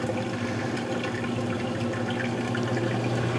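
A GE washing machine draining water with the lid lifted, a steady pump hum under continuous rushing, gurgling water, close and unbroken.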